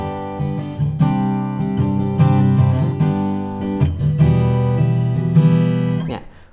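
A LAVA ME3 acoustic guitar strummed close, picked up by its own built-in microphone rather than a cable, rings out in full steady chords with a bright attack and fades at the end.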